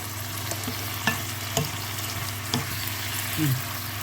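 Wild garlic flowers stir-fried with pork belly ham in a pan, giving a steady sizzle broken by a few sharp spatula scrapes and clanks, close and moderately loud with no talking.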